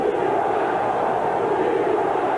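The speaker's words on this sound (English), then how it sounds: "Chant of defense from the crowd with 5 minutes to go in this first half" A dense, steady roar from a large football stadium crowd at a 1987 Jets-Giants NFL game, with the crowd chanting for defense late in the first half, broad and continuous.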